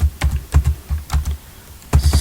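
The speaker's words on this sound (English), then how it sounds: "let me continue typing more countries here" Fingers type on a computer keyboard while entering a list in an Excel spreadsheet: close, clattering bursts of keystrokes in quick runs, with a short pause in the middle and no talk.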